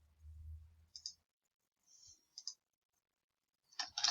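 Someone types a name on a keyboard in a quiet room, making a few faint, scattered key clicks with pauses between them and a short quick cluster at the end.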